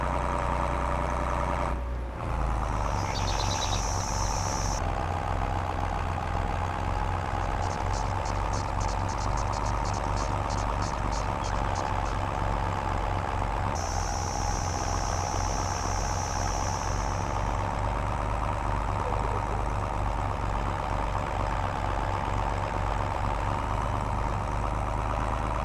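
A new tractor's engine runs steadily in a Farming Simulator game, a continuous mid-pitched drone with a constant low rumble that holds for the whole stretch, joined by brief higher whirring and clicking from the machinery.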